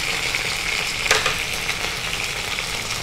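Urad dal and chana dal fry in a tempering with curry leaves, giving a continuous close sizzle with a brief clatter of stirring partway through.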